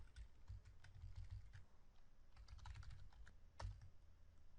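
Code being typed on a computer keyboard, quick bursts of close, light key clicks with short pauses and a sharper keystroke near the end, quiet and without talk.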